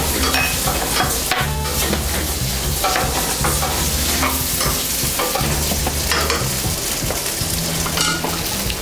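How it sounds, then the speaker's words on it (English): Food is stir-fried in a pan with a loud, steady sizzle and frequent scraping and clattering of a utensil against the pan, over a low background hum. "we're going to have her stir fry it"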